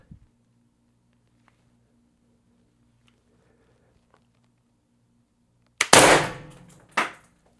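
An Umarex TR50 CO2 gun fires a 3.5 gram shaped round, a single sharp loud crack after a quiet stretch of faint background hum, followed about a second later by a second smaller impact snap.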